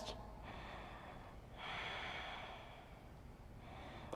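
Yoga students breathe together during a twisting pose, a group of strong, audible exhales rising and falling in waves, breathy and close with no talking.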